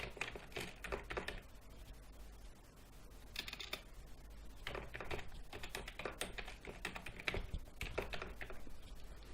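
Keys tapped on a computer keyboard while entering a sign-in ID, quick irregular clusters of close clicks with short pauses between bursts, no voice over them.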